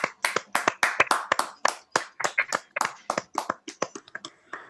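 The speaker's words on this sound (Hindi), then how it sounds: "ताली बजाइए।" An audience claps along at a religious gathering, with sharp, fairly regular handclaps in distinct bursts that thin out and soften toward the end.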